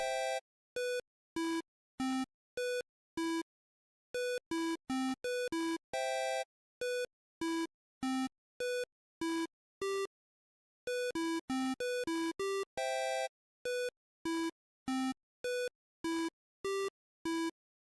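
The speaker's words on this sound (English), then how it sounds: "This just sounds like a hearing test." Clean electronic beeps like a hearing test sound in uneven bursts at changing pitches, some alone and some in rapid clusters, separated by silence, with no talk.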